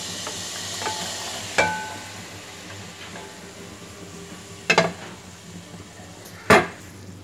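Vegetables and fried chicken are stir-fried over a high flame for restaurant-style Chinese rice: a steady sizzle with a few sharp metallic clanks of a utensil against the pan.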